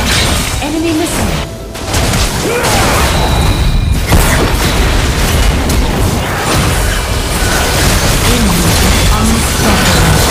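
Missile explosions in the mobile MOBA game Wild Rift, loud booming crashes within dense layered game effects and music, continuous and close throughout.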